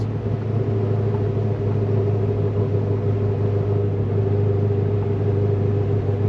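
Cammed, catless Corvette Z06 cruising at 35 mph around 1500 RPM with the windows open, giving a steady, loud low-pitched exhaust drone with a constant hum that holds unchanged throughout.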